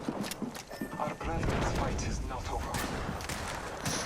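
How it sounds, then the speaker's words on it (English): An enemy squad opens fire in a multiplayer shooter game, with rapid cracking gunshots and bursts of automatic fire at middle distance, continuing steadily alongside in-game noise. "Oh, we're getting shot at by a second squad."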